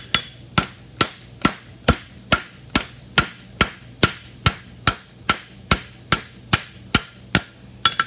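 Metal is hammered flat on an anvil in a forge setting, with about seventeen sharp ringing blows landing in a steady, even rhythm roughly twice a second, close and loud with no talking.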